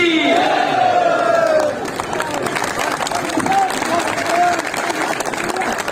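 Audience members at a Hindi poetry gathering roar a devotional chant back in unison. The loud crowd shout swells and then fades into mixed cheering and clapping, with a voice rising above it.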